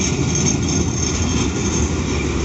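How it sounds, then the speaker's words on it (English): An old tram passes along the Blackpool promenade, giving a steady, loud, close rumble that holds level for the whole stretch with no talk over it. "There's an old tram coming up as well."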